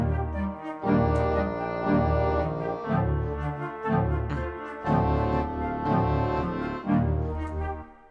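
A woodwind ensemble plays sustained, swelling chords in a slow, layered passage, rich and warm, with phrases rising and easing off every second or so and no voices over it.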